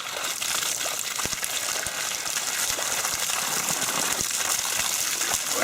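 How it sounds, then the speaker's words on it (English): Spring water gushing from a new pipe into a village water tank in Nepal, a steady loud rushing splash with scattered drips and sloshing throughout. "At last, the water arrived at the tank."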